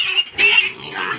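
Hungry pigs squeal and grunt loudly at feeding time, a few sharp close squeals in quick succession.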